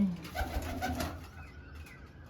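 Pigeons coo softly nearby, a few low rounded calls fading out toward the end.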